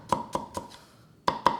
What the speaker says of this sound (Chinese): 然后一样切片